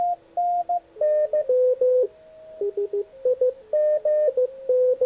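A loud image signal comes through a Xiegu X108G transceiver near 14.049 MHz as steady, keyed radio tones. Strong beeps and tone pairs shift between a few pitches in a choppy Morse-like rhythm, alone and close.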